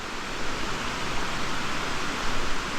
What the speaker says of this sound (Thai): เนี่ยน้ำตก มโนรา waterfall